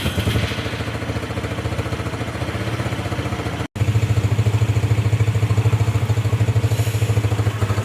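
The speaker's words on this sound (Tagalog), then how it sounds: "Painitin muna natin yung motor." A motorcycle engine being warmed up idles steadily with a rapid, even putter and mechanical clatter, briefly cutting out before resuming louder.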